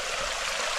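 A stream trickles and rushes over a small waterfall in an old wooded ravine, a steady, close wash of moving water with no voices.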